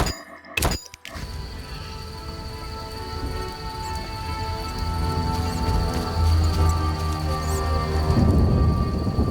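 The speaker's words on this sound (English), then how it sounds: "Still raining as well." Steady rain falls in The Witcher video game, a constant hiss with a low rumble building toward the end, preceded by a sharp thump at the start and no voices.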